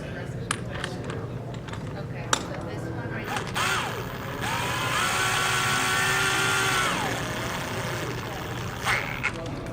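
An impact wrench drives the bolt on a Matco heavy-duty ball joint press, one loud whirring burst of about three seconds, with scattered clicks and tool-handling clatter before and after.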